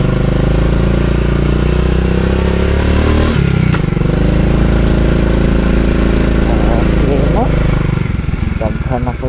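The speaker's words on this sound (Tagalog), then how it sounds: "Daghan na po kaayog motor." Motorcycles idle and roll into a parking area at the Sonnenberg sea-of-clouds viewpoint in Davao City. The engine rumble is loud and continuous, with a brief rev partway through and a voice talking over it.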